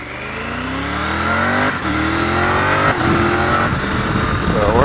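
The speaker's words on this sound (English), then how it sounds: "see how the audio sounds just with the engine of the motorcycle idling" A motorcycle engine idles close to an action camera with an external microphone, a steady loud rumble with slight rises in pitch and a few brief dips, running continuously throughout.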